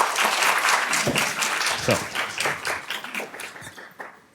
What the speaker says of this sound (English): Can I get a round of applause one more time for Miss Cynthia?